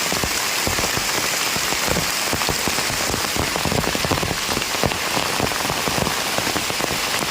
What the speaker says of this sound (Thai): ฝนตกนักมาแล้วครับ